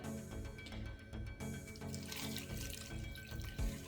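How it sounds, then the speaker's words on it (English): Water pours steadily into a pot while zobo drink is being made, a continuous close splashing and trickling with a few brief drips, faint overall and without talking. "So just pour in a little bit more water."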